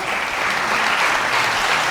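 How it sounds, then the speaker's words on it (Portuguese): Loud, dense applause from a church congregation during a worship service, a continuous roar of many hands clapping at once with no pause. "dê um forte aplauso ao Senhor"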